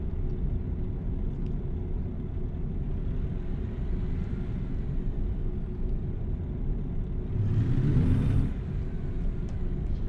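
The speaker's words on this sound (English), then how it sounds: "This truck is making strange noises." Truck engine in American Truck Simulator, a constant low rumbling drone throughout, with a brief louder surge near the end and no voices.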